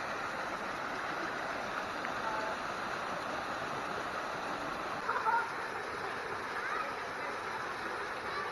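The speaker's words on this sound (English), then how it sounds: "This little pond where the waterfall" Cascade Waterfall in Patapsco Valley State Park spills into a small pond, giving a steady broadband rushing wash of water with faint distant voices briefly under it.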